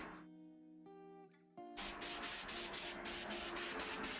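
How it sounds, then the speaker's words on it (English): An airbrush sprays paint onto a Forgeworld Nurgle Daemon Prince miniature. It gives a loud close hiss in about ten rapid even pulses after a stretch of quieter tonal background sound. "Lil bro's airbrushing without a mask"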